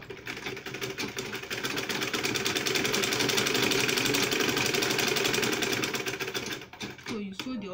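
An electric sewing machine stitching fabric for a double-compartment purse bag runs in a fast, steady needle rhythm, close and loud, stopping near the end as a person starts talking.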